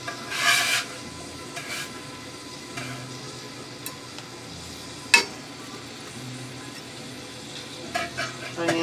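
Onions sizzling in melted butter in a saucepan, a soft, steady frying hiss with occasional stirring scrapes and a sharp clink partway through, close and moderately quiet.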